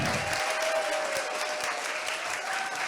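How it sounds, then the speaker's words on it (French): Audience applause at an evening charity event for farmers, a strong, continuous round of clapping from a large crowd held at an even level as it is measured for volume, with a faint tone running underneath. "Bon, allez, on fait l'applaudimètre."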